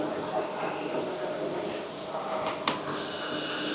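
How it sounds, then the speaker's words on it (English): Heat gun shrinking heat-shrink tubing onto a terminal on a 120mm² cable: a steady, close blowing roar with a hissy whine, continuous throughout and broken by one brief sharp click. "Heat gun."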